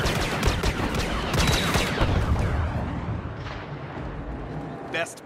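Rapid blaster fire in Star Wars Battlefront on Sullust, a dense, loud burst of repeated energy shots and impacts that tapers off over several seconds, with game voices mixed in.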